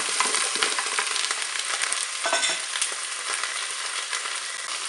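Onions brown in a Cookeo multicooker, a steady close sizzle and crackle of frying with occasional stirring scrapes, no voices.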